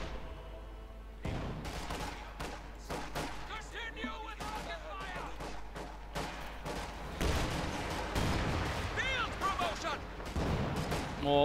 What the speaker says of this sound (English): More artillery shots going off there.